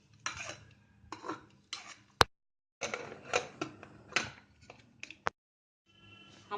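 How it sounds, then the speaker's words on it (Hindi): Metallic clanks and clatters of a pressure cooker lid being handled and fitted onto the cooker, in short bursts with a sharp click partway through. "कुकर का ढक्कन बंद करेंगे"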